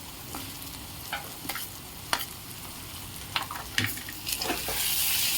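Ginger, garlic and cumin sauté in a pan for aloo palak, a potato and spinach dish. A steady sizzle runs under scattered scraping and stirring taps from a spoon against the pan.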